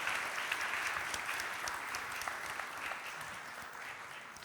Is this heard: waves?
no